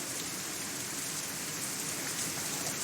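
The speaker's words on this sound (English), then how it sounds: "The rain increases a little more" Steady rain in the visual novel Katawa Shoujo, a dense even hiss of falling drops that holds at constant loudness throughout, with no voices.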